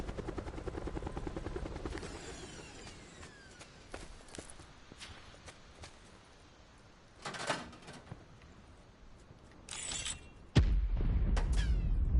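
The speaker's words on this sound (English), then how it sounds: "people are clearly shooting my helicopter" A helicopter in the Call of Duty: Black Ops IIII video game drones steadily with rotor noise, punctuated by sharp bursts of gunfire and impacts, ending in a loud sudden blast.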